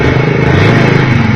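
A Honda CB110 motorcycle engine runs loud and close in a steady, throbbing drone, held at revs without pause and with no voices.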